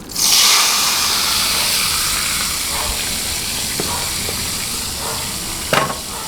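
Tofu and minced garlic stir-fry in a reused pan with a loud, steady sizzle and hiss, with a few light clinks of a utensil against the pan.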